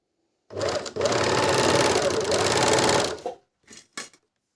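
A Juki MO-814 overlock sewing machine runs at steady high speed for about three seconds, loud and close, then stops, followed by a few short clicks and brief bursts of stitching.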